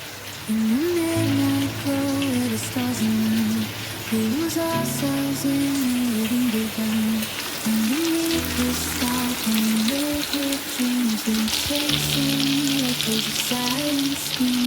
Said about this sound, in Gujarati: મરચાં તળાઈ જાય એટલે શાક વઘાર નાખી